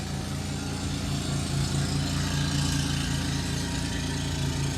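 A lawn mower engine runs steadily nearby, a constant droning hum with a low pulsing tone and no pauses.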